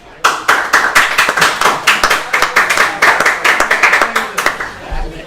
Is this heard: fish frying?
no